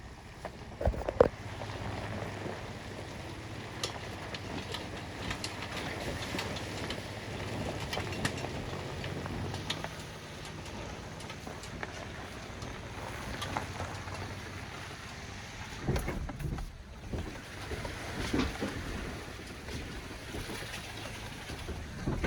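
A Chevrolet Colorado ZR2 truck churns slowly through a mountain creek crossing in Colorado, with splashing, sloshing and engine rumble rising and falling in uneven surges.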